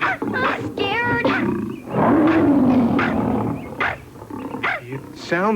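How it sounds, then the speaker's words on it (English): A lion in a 1982 cartoon film of The Wizard of Oz lets out a loud, drawn-out roar and growl, mixed with vocal sounds and other voices close up. "It sounds like a lion."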